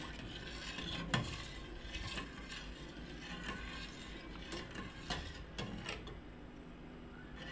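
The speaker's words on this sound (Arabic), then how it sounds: "هنستمر في التقليب" A spoon scrapes and stirs through thick rice pudding in a pot over low heat, with soft rhythmic scraping and occasional clinks, fairly quiet and steady.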